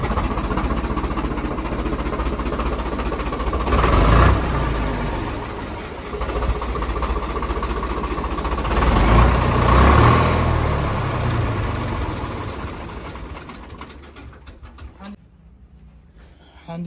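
A Swaraj 855 tractor's diesel engine runs close by, a steady knocking idle that swells in two revving surges before settling and cutting off near the end.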